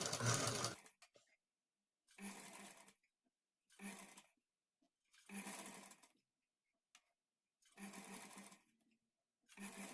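An electric sewing machine stitches piping onto a lined blouse. It runs in about six close, loud bursts of rapid needle whirring, each a second or so long, with silent pauses between them.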